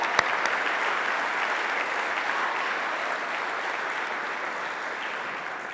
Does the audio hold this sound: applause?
yes